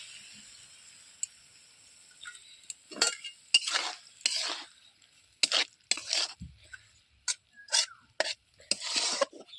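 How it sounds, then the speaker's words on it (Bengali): A utensil stirs and scrapes red amaranth stems and vegetables in a cooking pan, close-up clanks and shuffles in uneven bursts with quiet gaps and faint sizzling, alone without voices. "এবার ওপর নিচ করে আর একবার নেড়ে নিয়ে সরিষার পেস্টটা দিয়ে দেবো"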